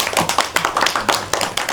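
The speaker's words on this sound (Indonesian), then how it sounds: "Kasih tepuk tangan buat Bagus." Students in a geography classroom clap together for a classmate, a quick run of about eight sharp, evenly spaced claps in a steady rhythm, close and clear with no talking.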